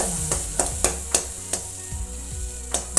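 Butter added to a hot pan for paneer butter masala gives a steady low sizzle, broken by regular sharp taps and scrapes of a utensil against the pan.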